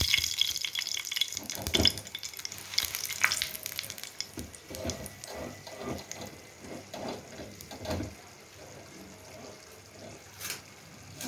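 Dried chilies frying in a mix of soybean oil and ghee give a steady close sizzle with scattered crackles and pops, plus a few clinks of a spoon against the pan.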